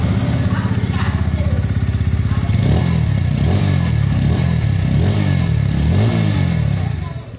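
A Bajaj Pulsar P150 motorcycle engine idles with a rapid thumping pulse, then revs up and down in several throttle blips before settling, loud and close.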